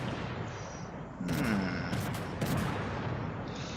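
Paintball markers firing during a league match, with bursts of rapid popping shots that start partway through and continue in clusters over an outdoor background.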